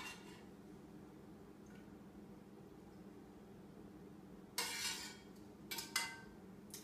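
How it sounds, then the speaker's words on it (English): Metal tongs clink and scrape against a pot of spiced Roman wine while lifting out lavender and thyme, a few short bursts over a steady low background hum. "you just want to get some tongs and remove your lavender and thyme"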